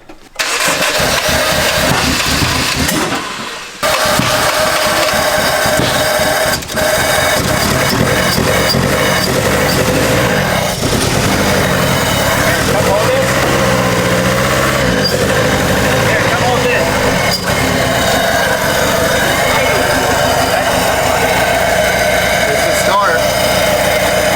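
A forged car engine runs steadily and idles close by, a loud continuous drone with a brief dip near the start, while people talk over it.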